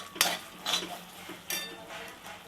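Cooked mutton pieces dropped into frying masala in a pan and stirred, a few distinct clattering scrapes and sizzling bursts, close and moderately loud, no talking.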